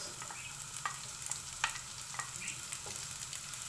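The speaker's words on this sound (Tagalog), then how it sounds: "Halo-haloin lang natin. Tapos yung sibuyas." Garlic and onion sizzle steadily in a hot pan while a utensil stirs them, giving close, continuous crackling broken by repeated soft scraping strokes.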